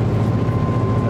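Engine of a fast ROV boat revving, a steady loud low drone with a continuous hum, close and unbroken for a moment.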